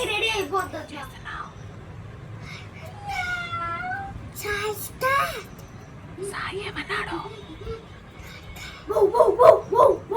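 A voice imitates a cat, giving drawn-out meows between bits of talk and background chatter.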